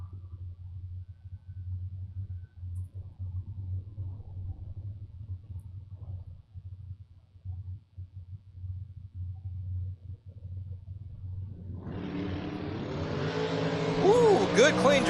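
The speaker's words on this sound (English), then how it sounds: "Ooh, good clean drag race." At a drag strip, a second-gen Camaro with a 572 and a 73 Comet with a 606 sit rumbling low at the line, then launch with a loud rising roar that builds toward the end.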